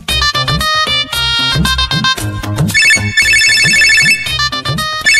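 A mobile phone rings with an incoming call, a loud melodic electronic ringtone playing repeated bright tone patterns over a rhythmic beat, continuous and alone.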